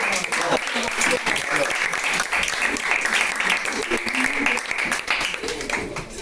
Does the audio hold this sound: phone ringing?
no